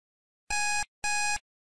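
A timer alarm gives two clear electronic beeps, each about a third of a second long, evenly spaced and fairly loud against silence.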